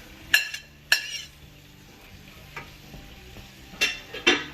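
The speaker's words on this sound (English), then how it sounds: "We're just going to stir that up in there." Beef and broccoli frying in sesame oil in a pan, stirred with a utensil: a steady low sizzle with a few sharp clinks and scrapes of the spoon against the pan, close and alone with no talk.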